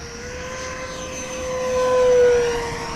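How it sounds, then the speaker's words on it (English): An E-flite F-4 Phantom II 80mm electric ducted-fan RC jet flies past with power coming back and full flaps down, a steady whining fan tone that swells as it nears and fades, no talking. "Power's coming back in. I'm going to drop full flaps here, Steve."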